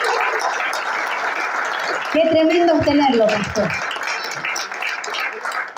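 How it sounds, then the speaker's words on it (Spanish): A church congregation applauds for their pastor at a conference service, steady crowd clapping running throughout while someone speaks over it. "¿Por qué no damos un fuerte aplauso por la vida del pastor Osvaldo?"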